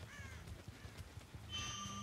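A seagull in the video game Dead by Daylight calls in a short run of harsh raspy squawks, moderately near, over a low steady ambient drone.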